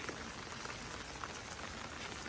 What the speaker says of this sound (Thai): ฝนตกก็ตกแค่นี้ นะครับ